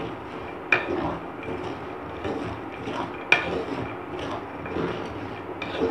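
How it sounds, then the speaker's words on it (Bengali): Almonds stirred in hot salt in a pan give a gritty, continuous scraping, broken by two sharper clanks of the utensil against the metal. "নুনের সাথে এই গরম নুনটার সাথে এটাকে এইভাবে ঠিক মেশাতে লাগবে।"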